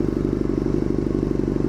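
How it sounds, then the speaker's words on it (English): A 2001 Yamaha R6 sport motorcycle's engine holds a loud, steady high-rev drone up close, with no pause throughout. "Yamaha R6 2001, high revs when I get off the freeway."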